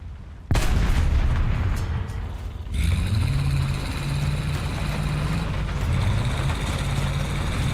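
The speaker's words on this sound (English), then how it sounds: "It's the Walker Bulldog gun." A large tank gun from an M41 Walker Bulldog fires in War Thunder, one sudden loud boom that cuts in sharply, followed by a steady rumble of engine and battlefield noise.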